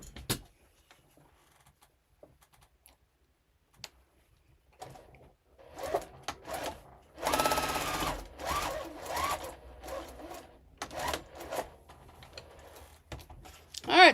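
Sewing machine stitching quilt pieces, quiet start with a few faint clicks, then bursts of rapid mechanical whirring in short runs, loudest in a sustained stretch near the middle, recorded close in a quiet room.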